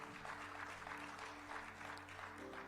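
A church congregation claps together in steady, sustained applause during a sermon, heard quietly from a distance over a soft, held musical tone in the hall.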